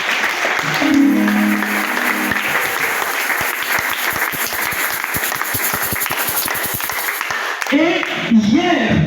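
A church congregation applauds steadily and loudly for Jesus at a teaching session, with dense continuous clapping. A voice speaks over it near the start, and the clapping thins out at the end.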